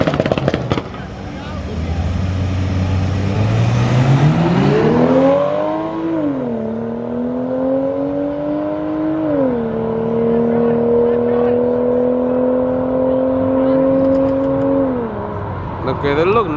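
A BMW M340i and a Jeep Trackhawk street race at night, engines revving hard and rising in pitch through the gears, a loud sustained roar with shifts, with people talking nearby.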